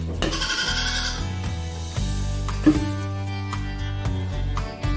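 A goat on a wildlife rescue farm bleats close and loud, several wavering cries in quick succession with a brief sharp knock partway through, no talk.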